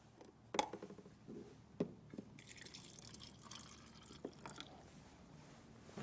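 Water is poured onto a green tea bag, giving a few faint, scattered drips and a soft trickling splash, quiet and close with no talk over it.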